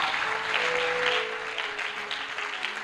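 A church congregation applauds in a sustained burst of clapping that fills the room, peaking early and then easing slightly while staying steady to the end.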